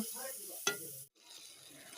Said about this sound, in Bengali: সেদ্ধ করা আলুগুলোকে লবণ আর হলুদ দিয়ে ভালো করে ভেজে নেব